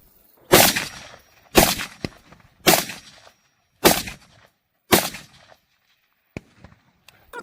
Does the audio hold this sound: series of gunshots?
yes